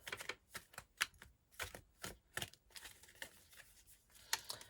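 Tarot cards shuffled slowly by hand, a close, quiet run of soft riffling flicks and papery slaps in uneven bursts, with no one talking.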